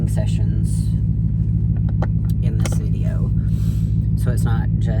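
Steady low rumble inside a moving car on the road, constant and loud throughout, with a person talking over it.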